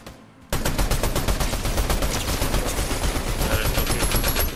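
Rapid automatic gunfire in the Fortnite video game, dense bursts of shots rattling almost continuously after a brief quiet opening, loud and close.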